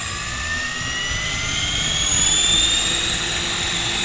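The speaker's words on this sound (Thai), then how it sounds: "รอให้ใบพัด หมุนจนสุดเสียงก่อนนะครับ" A size 600 RC helicopter's rotor whines steadily and rises in pitch as it spins up, a loud continuous mechanical drone with no talking.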